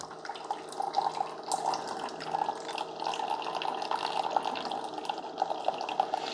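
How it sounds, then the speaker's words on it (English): A Keurig K-Express K26 coffee maker brews through a reusable K-Cup, sending a thin stream of liquid trickling and splashing steadily below, with light gurgling throughout and no voices. "You should only get water coming out of the bottom of that reusable K-Cup."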